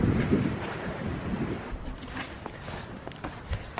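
Wind gusts across the microphone outdoors near a baby goat pen, a steady broadband rush and buffeting that stays loud throughout with a few soft thumps.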